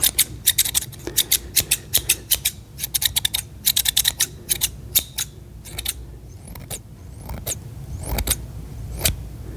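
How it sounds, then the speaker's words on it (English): Scissors snip close to the microphone in ASMR style, a fast run of crisp cutting clicks that thins out into scattered single snips, quiet between strokes and without any talk. "Getting the bassy snip sounds in there."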